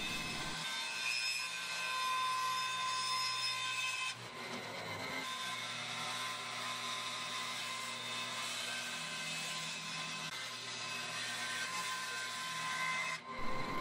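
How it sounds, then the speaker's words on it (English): Power saw cutting a guitar body shape from glued, sanded redwood, a steady high whining buzz for most of the stretch with a brief dip partway, alone and without talk. "I'm going to go ahead and cut out the shape of the body"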